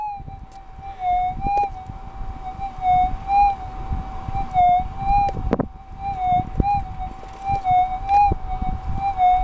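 A Minelab GPX4800 metal detector gives a positive signal over a lead token: a steady electronic tone warbles and pulses in pitch, repeating in short swells over a low rumble with occasional clicks and knocks.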